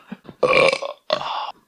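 Seltzer water brings up two loud, close burps in quick succession, each about half a second long, with small throaty noises before them.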